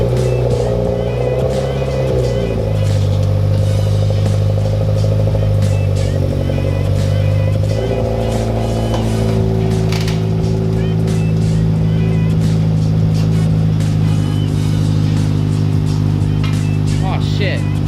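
A 2019 Subaru WRX with an AWE Track Edition cat-back exhaust drones and revs steadily throughout, with a deep exhaust rumble and shifting pitch, while people talk faintly underneath.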